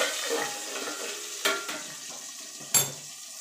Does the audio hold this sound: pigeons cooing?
no